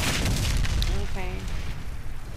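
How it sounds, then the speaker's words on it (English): A bomb detonates in the Warface shooter, a heavy, broad rumbling blast that fills the opening and slowly fades, while a voice speaks briefly over the tail. "The enemy detonated the bomb"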